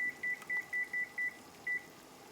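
Short electronic beeps from a kitchen timer being set, six evenly spaced bleeps then a pause and one more, clear and close over a quiet room.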